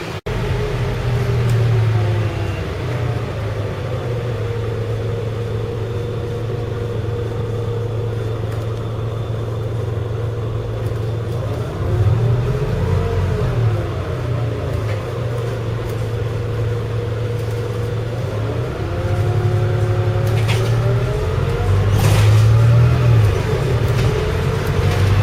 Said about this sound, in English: So I've been on the bus for about half an hour.